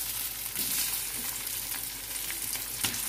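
Whole cumin, asafoetida, ginger and green chilli sizzle in hot oil in a pan, a steady bright crackling hiss with occasional stirring scrapes, close and continuous, with no talking.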